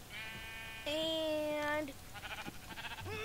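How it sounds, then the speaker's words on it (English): Sheep bleating in the video game Minecraft, two or three clear, close, wavering bleats in a row, with a brief word of speech at the start. "I found the sheep a little bit away from our house"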